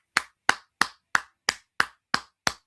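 Eight single hand claps in an even, steady rhythm, each a sharp close crack with a short decay, alone with no talk.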